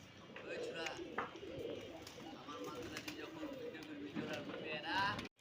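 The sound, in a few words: flyer pigeons cooing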